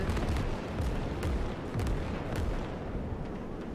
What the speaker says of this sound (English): Oh, that's like a rocket artillery, isn't it?